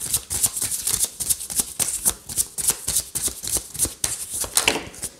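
Tarot cards being shuffled by hand, with quick riffling, flicking bursts in an irregular rhythm, close and fairly loud, with no voice over them.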